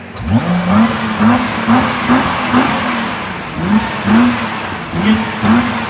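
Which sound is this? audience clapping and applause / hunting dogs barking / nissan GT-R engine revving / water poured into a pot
nissan GT-R engine revving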